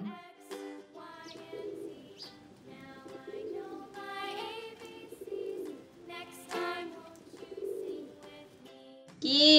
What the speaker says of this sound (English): P for pigeon.